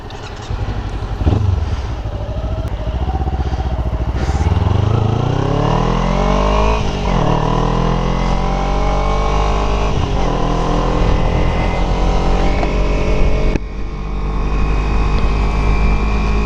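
A motorcycle ridden on a small group ride rumbles loudly and steadily, its engine revving and rising in pitch as it accelerates through the gears, with repeated upshifts and continuous wind noise close to the rider.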